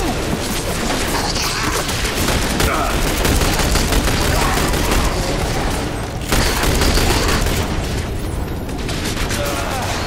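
Dense, continuous gunfire from a squad firefight in The Bureau: XCOM Declassified, loud and sustained throughout with booms and impacts layered in, plus a brief dip near the middle.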